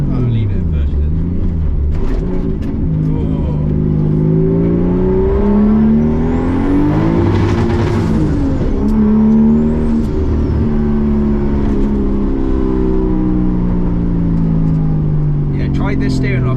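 A 430bhp RB25-engined Nissan S13 with overheating problems drives and revs, its engine loud and close, rising and falling in pitch through revs and gear changes under a steady cabin drone, with people talking over it.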